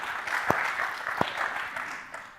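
Scattered applause from a conference audience in a hall, a soft, thin patter of many hands with a couple of sharper individual claps standing out near the start, fading slightly toward the end.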